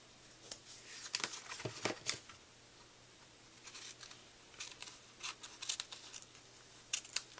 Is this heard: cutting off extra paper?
yes